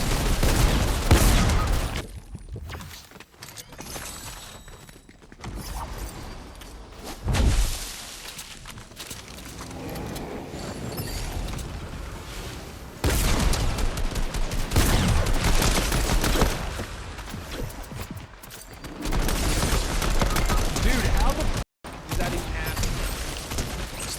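Pistol fire in a shooter video game, rapid bursts of shots and impacts mixed with other game noise, loud and busy, with players talking over it.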